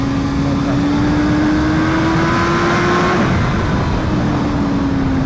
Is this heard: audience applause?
no